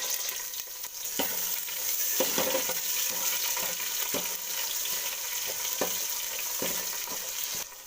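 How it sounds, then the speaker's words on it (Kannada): Onion frying in hot oil with garlic, curry leaves and mustard seeds, giving a steady close sizzle, with periodic scraping clicks of a spoon stirring the pan. "ಈರುಳ್ಳಿ ಫ್ರೈ ಆಗಿದೆ"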